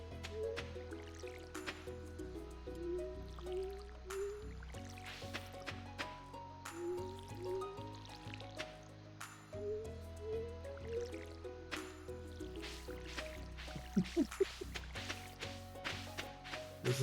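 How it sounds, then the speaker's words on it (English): Watering crops in Stardew Valley, soft dripping and splashing watering-can sounds repeating in short bursts over gentle background music, faint and near. "This is what happens when two people try to water the same thing."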